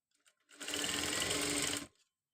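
Sewing machine stitching box neck piping on fabric, one close, loud burst of rapid motor whir lasting about a second and a half, then stopping.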